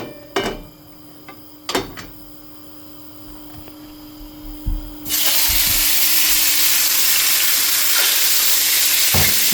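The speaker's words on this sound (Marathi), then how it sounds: "आतां सुंगटां भाजून घेया" Prawns for Goan prawns balchao drop into hot oil and break into a loud, steady, close sizzle that continues unbroken, after a few clanks of utensils and a low electrical hum.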